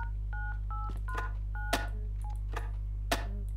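A telephone number dialed in the video game Dr. Langeskov, The Tiger And The Terribly Cursed Emerald: A Whirlwind Heist: a string of short two-tone keypad beeps, then a few clicks and thumps, all over a steady low electrical hum.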